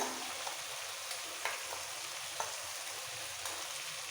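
Cumin paste frying with mutton in a pan for a Golbari-style kosha, a steady broad sizzle with faint periodic stirring scrapes about once a second, close and moderately quiet, with no voices.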